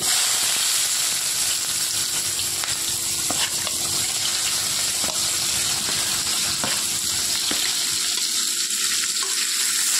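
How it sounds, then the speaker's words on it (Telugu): Thinly sliced onions with a few fenugreek seeds frying in a pan for a dry fish tomato curry, a steady close sizzle with occasional crackles and stirring. "బాగా ఫ్రై చేసుకోవాలి."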